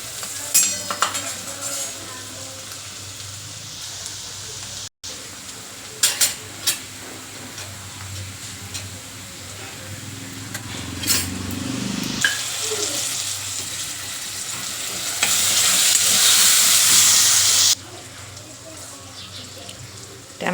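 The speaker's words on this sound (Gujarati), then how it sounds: "ડુંગળીનો કલર થોડોક ગોલ્ડન બ્રાઉન થાય ત્યાં સુધી આપણે તેને સાતળશું." Onions fry in a pan until golden brown while being stirred, giving soft sizzling and scraping with intermittent clinks of utensils against the pan, plus a louder rush of running water partway through.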